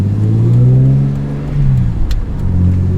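A BMW E46 M3 with an SMG gearbox accelerates in automatic mode, its engine note close and loud, rising in pitch, dipping briefly at a gear change, then climbing again.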